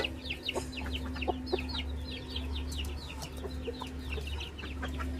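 Laying hens cluck in quick, irregular bursts with higher chirpy calls mixed in, fairly close over a steady low hum and no speech.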